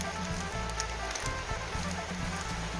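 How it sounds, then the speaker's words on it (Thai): Rain falls steadily during a storm in rural Isan, Thailand, a dense continuous hiss with scattered drops spattering on nearby surfaces, with a low steady hum underneath. "มือนี่ฝนตกนะคะ พายุเข้านะคะ"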